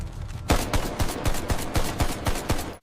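Gunfire rattles through a staged firefight, a rapid run of loud, evenly spaced shots about a quarter second apart, up close and with no speech over it.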